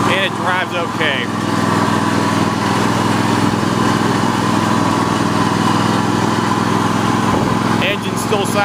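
An MTD lawn tractor engine runs steadily close by, a loud continuous drone with a slight muffler rattle, while a voice talks over it.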